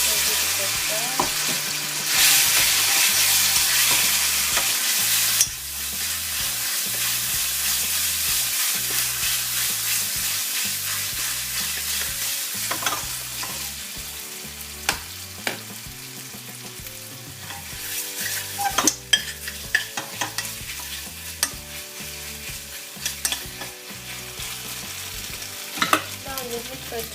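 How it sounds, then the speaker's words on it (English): Pork fries in a hot pan while being stirred, a steady close sizzle throughout with repeated scraping and clattering stirs, louder and busier near the start and punctuated by sharp utensil knocks later. "Now I'm going to fry first pork"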